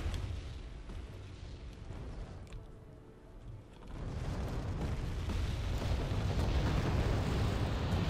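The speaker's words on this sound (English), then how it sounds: "Got mortars firing onto the forest" Mortar artillery fire in the war video game Wargame Red Dragon, striking a forest: a continuous, loud rumbling barrage of booms and bursts that dips briefly, then swells back to a dense, sustained roar.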